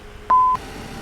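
A single short electronic beep sounds from the cockpit of an Embraer E170 in the flight simulator X-Plane 11. It is one steady tone lasting about a quarter second, heard clearly over a quiet hum.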